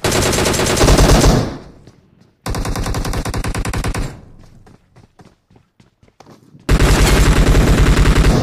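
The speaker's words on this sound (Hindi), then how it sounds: "बंदे का फायरिंग कहाँ से आया?" Rapid automatic gunfire bursts in the BGMI video game, loud and close, with two long sustained volleys and a third burst separated by quieter gaps with scattered faint shots.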